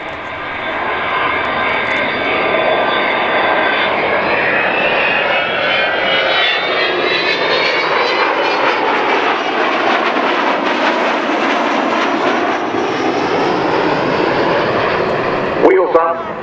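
Avro Vulcan B2 jet bomber taking off at RAF Waddington, a loud continuous jet roar that rises and sweeps in pitch as it passes, with a commentator speaking over the noise.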